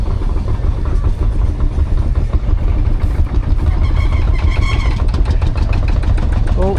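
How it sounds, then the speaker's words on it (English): A diesel Field Marshall tractor engine runs steadily at a steam rally, a loud, continuous low rumble with some rhythmic mechanical clatter and outdoor crowd noise around it. "There's another field marshal, but this one's a diesel one."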